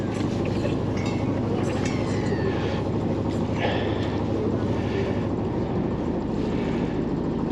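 A hire boat on the Norfolk Broads engages forward gear, its engine producing a steady loud droning rumble throughout with faint higher whines, close by and continuous.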